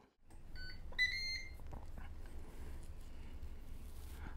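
Ninja Foodi SmartLid pressure cooker beeping after the start button is pressed, a couple of clear electronic tones close by in a quiet kitchen, followed by low appliance hum.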